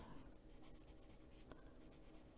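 A Luminance colored pencil lightly shades paper in soft, continuous scratchy strokes, close and quiet, with a few slightly firmer scrapes.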